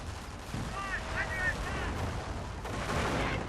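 A German 88 gun fires in the World War II strategy game Company of Heroes, a heavy booming report over a rumbling battlefield, with sirens whining in the distance and a voice speaking now and then.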